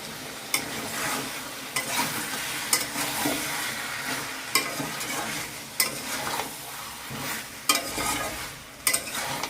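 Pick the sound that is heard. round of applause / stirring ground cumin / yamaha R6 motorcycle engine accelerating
stirring ground cumin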